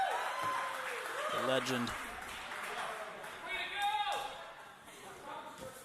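Crowd cheering and clapping for a skateboarder finishing a run at an amateur qualifier contest, a steady wash of noise under a commentator's voice throughout.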